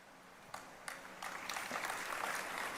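An audience at a religious discourse claps, starting with a few scattered claps and quickly swelling into dense, sustained applause.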